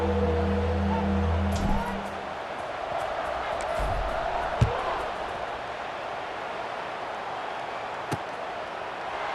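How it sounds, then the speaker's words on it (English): Stadium crowd roaring at a college football kickoff in a video game, a dense continuous wash of cheering with a few sharp thumps and bursts, steady and loud throughout with little sign of commentary. "this crowd now ready to get behind them"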